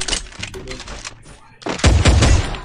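Gunfire in the video game Free Fire Clash Squad, bursts of shots mixed with a voice early on, then louder, denser booming shots toward the end.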